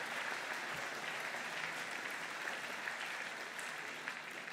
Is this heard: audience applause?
yes